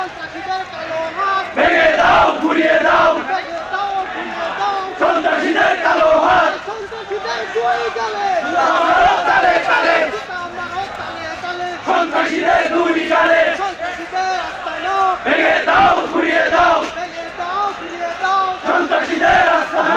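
University students on a protest march along campus roads chant loudly in rhythmic unison, a large crowd's slogans rising in repeated bursts with shouting voices, close and continuous.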